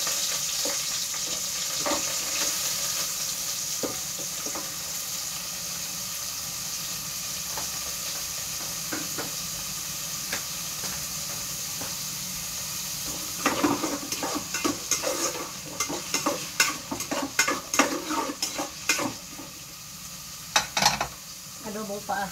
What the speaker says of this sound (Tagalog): magluto tayo ng adobong paha.